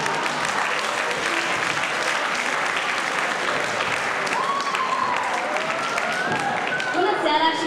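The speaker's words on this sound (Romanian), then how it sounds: "Aplauze, vă rog!" A school ball audience applauds to welcome a young singer on stage, sustained crowd clapping throughout, with voices and a few whoops rising over it near the end.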